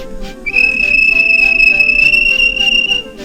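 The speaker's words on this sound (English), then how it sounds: "The guard blew his whistle," A shrill, steady whistle blast from a railway guard, held for about two and a half seconds, loud and close, with a faint second tone above it and background rumble.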